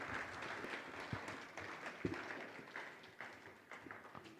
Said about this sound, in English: Would we give them a round of applause?